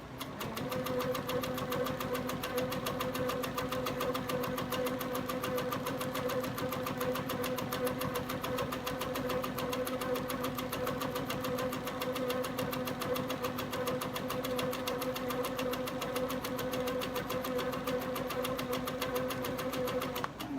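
A sewing machine stitches steadily while quilting a table runner, a fast continuous mechanical whirring with a buzzing hum that runs unbroken and close up for the whole stretch.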